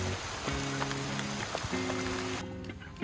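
Steady rain pattering on surfaces at a riverside campervan park in Sariater, a dense continuous wash with a faint droning tone underneath, no voices.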